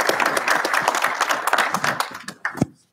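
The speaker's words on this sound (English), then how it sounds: "can we just give Frank a round of applause" Audience applause at a networked car symposium, steady dense clapping from a crowd that carries for a few seconds, then a few last claps before it stops.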